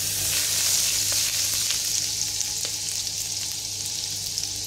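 Garlic sizzles in a generous pool of oil and butter in a hot pan, a steady, bright crackling hiss that continues unbroken throughout, close and fairly loud, with no voices over it.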